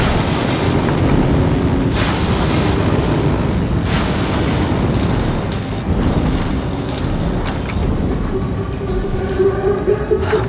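Mines exploding in the sci-fi mech game Vox Machinae, a dense rumbling roar of booms and crackling blasts running loud and continuous throughout, with a few sharper bursts standing out and a faint tonal hum near the end.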